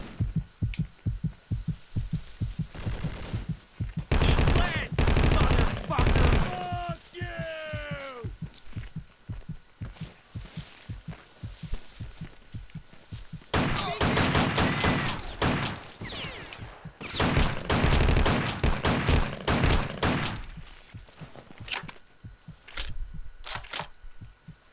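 Sharp gunshots crack in irregular bursts and single shots during combat in the video game Vietcong, close and loud, with stretches of rapid fire alternating with pauses and occasional voices.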